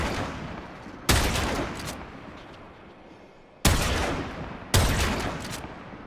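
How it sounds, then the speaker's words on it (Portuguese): Three loud gunshot blasts from the Vex gun in the video game Warframe ring out at uneven intervals, each with a burst of follow-up shots and a lingering echoing tail. "Primeiro tiro. Segundo tiro."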